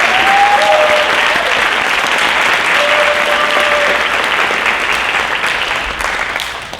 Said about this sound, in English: So could you give Miss Kate Young a round of applause?